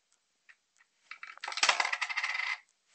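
A 1 euro coin clinks into a Lego gumball machine, followed by a dense rattling clatter of plastic gear mechanism as it is turned, close and fairly loud, with no talking.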